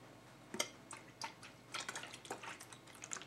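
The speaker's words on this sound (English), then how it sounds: "I'm pouring a lot because I want to make this whole pint bottle." Liquid mixture poured into a pint bottle for a homemade dry mouth remedy, heard as a close, quiet trickle with splashes and drips that swell and fade over a few seconds.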